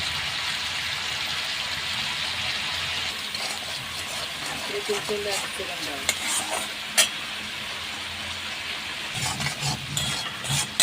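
Coriander and turmeric masala fries in a pan with a continuous close hiss and sizzle, with a few stirring scrapes and clinks, and a voice briefly heard near the end.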